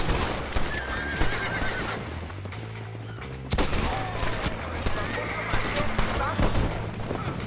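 A horse in the Red Dead Redemption video game whinnies loudly and clip-clops along, mixed with bursts of in-game gunfire and other game sounds, while a person talks over the action.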